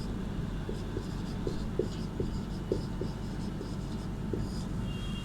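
A pen writes an answer by hand on paper, giving soft rhythmic scratching strokes repeated steadily at close range over a constant background hiss.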